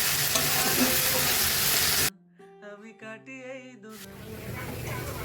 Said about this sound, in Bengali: আলু পেঁয়াজটা এবার ভেজে নিচ্ছি।